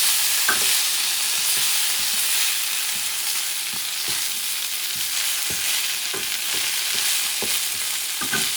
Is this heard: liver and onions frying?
yes